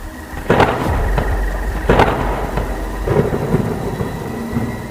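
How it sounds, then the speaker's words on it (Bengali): Heavy thunder claps in a night storm, two loud booming cracks a second or so apart followed by rumbling, with steady rain hissing throughout. "ঘন ঘন বাজ পড়ার শব্দে বুকের ভেতরটা পর্যন্ত কেঁপে উঠল আমার"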